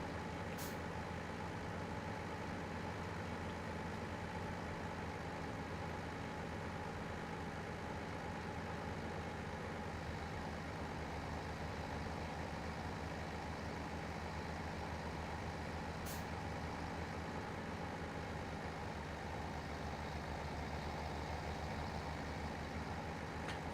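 Massey Ferguson tractor engine in Farming Simulator 17, towing a trailer over bumpy ground, holds a steady loud drone with a low harmonic hum throughout, with no talk over it.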